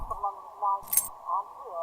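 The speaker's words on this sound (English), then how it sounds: "Then I'm fishing out a copy of her key from my bag and unlocking the door" Keys jingle and clink as a door is unlocked with a spare key, a short metallic rattle near the middle over a quiet steady hum.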